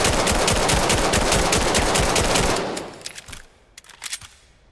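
Rapid G17 pistol fire in the video game Weapons of Vail comes as a fast, loud string of sharp shots, then breaks into a few scattered, quieter bursts and clicks.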